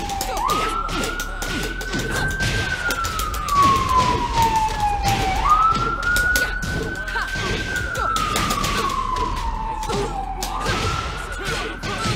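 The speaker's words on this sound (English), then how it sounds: "Ambulance." An ambulance siren in the Tekken 7 fighting game, a loud wailing tone sweeping up and down in long slow cycles over game noise and impacts.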